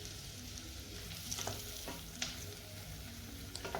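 Shallots frying in hot oil in a home kitchen, a soft steady sizzle with occasional light clinks and stirring, close but fairly quiet and alone.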